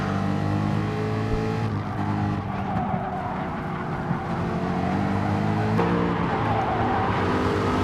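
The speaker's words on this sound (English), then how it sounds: "That Aston is still complaining mid-corner. You can hear it squealing." Aston Martin race car in a Super 2 super sprint at Autopolis short course, engine roaring steadily with tyres squealing mid-corner amid other car noise, loud and continuous throughout.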